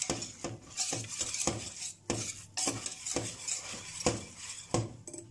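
A spoon scraping and knocking around a pan as a flour and ham roux is stirred with hot milk for homemade croquettes, irregular clinks and scrapes repeating close by over a soft sizzle.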